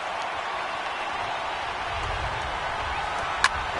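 A baseball stadium crowd in the MLB The Show 18 video game rises in a steady, even roar of cheering that holds level throughout, with a brief sharp click near the end.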